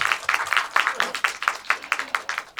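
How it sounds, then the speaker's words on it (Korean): An audience claps at a Q&A session celebrating the 100th edition of a small film festival: a steady run of close, crisp handclaps in a quick, fairly even rhythm, with no talking. "100회라는 걸 축하하는 박수 한번 같이 쳐봤으면 좋겠네요"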